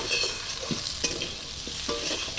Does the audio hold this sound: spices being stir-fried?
yes